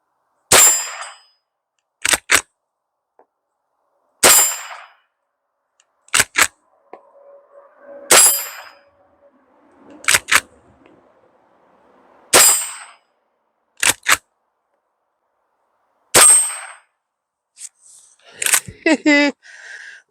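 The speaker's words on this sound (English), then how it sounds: "Put 5 rounds down range." A Taurus Model 62 pump-action .22LR rifle fires about ten sharp reports at irregular intervals, loud and close outdoors, with faint background noise between shots and a brief burst of rapid clatter near the end.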